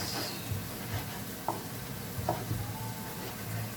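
Onions beginning to cook in a pan give a continuous gentle sizzle and frying hiss, broken by a few light clicks of stirring, close and fairly quiet.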